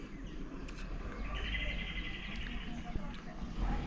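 Birds chirp and tweet in the morning outside a house in rural Konkan, with scattered calls and a brief trill over soft background hum, fairly distant and gentle.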